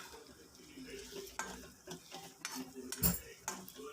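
Ginger-chilli paste frying in a pan for a ridge gourd and drumstick curry, a soft steady sizzle broken by several sharp clinks and scrapes of a spoon stirring against the pan, with no talking.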